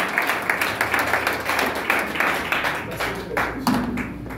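A church congregation applauding in steady rhythmic claps with some cheering, loud and close, continuing throughout with voices mixed into the noise.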